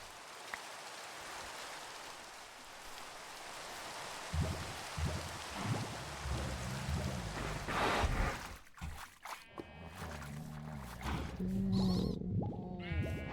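Rain in Minecraft, a soft steady hiss of falling drops under game sheep bleats and other animal sounds, the rain cutting off partway through.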